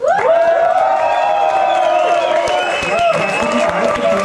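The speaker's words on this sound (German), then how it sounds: "bitte nochmal einen Applaus für den Jakob" Concert crowd at a live show in Sankt Moritz applauding for Jakob, a steady wash of clapping and cheering with voices mixed in throughout.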